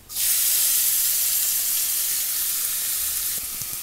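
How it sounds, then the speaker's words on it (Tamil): Chopped onions and fennel seeds hitting hot oil for fish gravy, a loud, bright sizzle that bursts in at once and then hisses steadily, easing slightly near the end, with no talking. "ஒரு 1/2 ஸ்பூன் சோம்பு, ஒரு 2 பெரிய வெங்காயம் எடுத்து பொடிசாக கட் பண்ணி வச்சுருக்கேன். அதை இது கூட சேர்த்துக்கலாம்."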